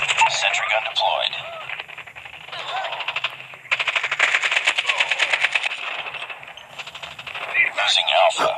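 In Call of Duty Mobile, a deployed sentry gun fires in rapid automatic bursts, with game voice callouts and radio chatter spoken over the rattling shots.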